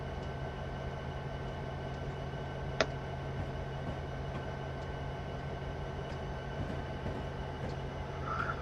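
A low, steady hum from a Norfolk Southern SD70M-2 diesel locomotive in Train Simulator 2015 runs at an even level throughout, with a single brief click partway through.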